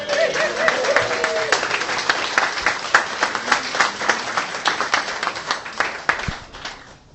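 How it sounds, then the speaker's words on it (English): Applause from an audience thanking the hosts at a book award event, dense steady clapping filling the room for several seconds, with voices faintly mixed in before it tapers off at the end. "a round of applause please for Foyles and the whole team for hosting us"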